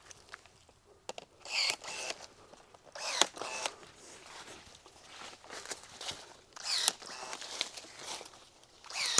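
Pruning shears cut fig tree branches on a low cordon espalier fig outdoors: a series of close, crisp snips and rustling branch handling, irregular bursts with short pauses between them.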